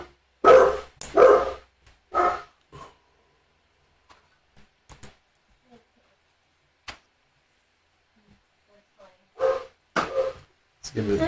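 Dog barking in an indie video game, several sharp barks in two clusters at the start and end separated by near-silence with scattered faint clicks.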